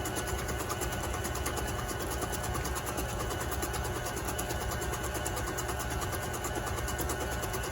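Electric mixer blending peanut butter bar dough, a loud, constant whirring motor drone with a fast rattling buzz that holds steady from start to finish without a break.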